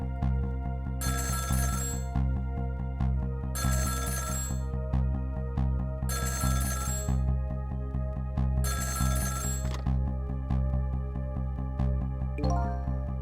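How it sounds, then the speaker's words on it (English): A telephone ringing in the video game Ghost Trick: Phantom Detective rings in four evenly spaced electronic bursts over a steady musical background, with no speech. "About 2 hours before dawn, the phone rang."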